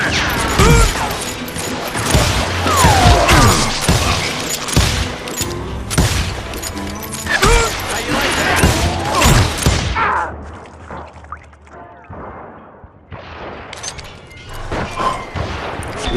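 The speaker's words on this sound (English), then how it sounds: "I heard the shots and I knew I had to move fast" Rapid, loud revolver and rifle gunfire from the Wild West shooter Call of Juarez: Gunslinger rings out in dense overlapping volleys with ricochets and impacts, easing briefly before more shots resume.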